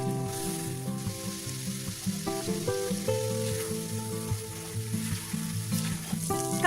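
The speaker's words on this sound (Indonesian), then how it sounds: "Tumis bumbunya pakai minyak bekas goreng tahu tadi aja ya Bun, tapi secukupnya saja." Spice paste sautés in leftover tofu frying oil, giving a constant, close sizzle and crackle that runs through the whole stretch beneath soft background music.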